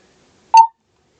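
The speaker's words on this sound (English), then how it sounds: "that's ringtone number 10" Onn walkie-talkie ringtone: one short electronic beep, a bright tonal chirp lasting about a fifth of a second, loud and close in otherwise silent surroundings.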